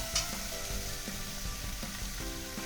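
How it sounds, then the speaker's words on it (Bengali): Mustard-poppy seed paste with turmeric sizzles steadily in a pan for a drumstick chochhori, a constant close frying hiss with faint stirring scrapes and clinks throughout, no voices. "এবার আমি এর মধ্যে দিয়ে দেবো সর্ষে পোস্ত বাটা"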